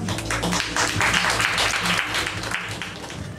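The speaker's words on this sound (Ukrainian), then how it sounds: "будь ласка, зачайте аплодисментами." A hall audience applauds to welcome Oleksandr Vilchynskyi at a literary gathering, a steady dense wash of clapping lasting a few seconds, fairly loud and close.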